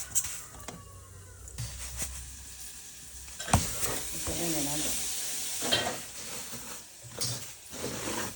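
Ingredients for traditional Sankranti pulagam sizzle and fry in a pan, with bursts of stirring and clattering scrapes over a steady hiss, close and moderately loud, with no talk.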